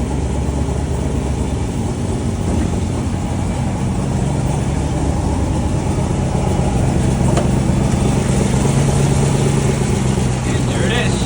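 A 5.7 Hemi V8 idles steadily under an open hood, a continuous low rumble that holds an even level from start to finish.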